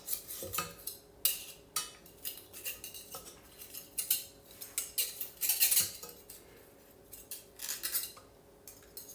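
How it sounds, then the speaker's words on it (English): Batter being scraped out of a metal whisk in a home baking session, with irregular clinks and scrapes of the wires against utensils and a bowl, quiet and close. "Once I get all of it out of the frickin' whisk."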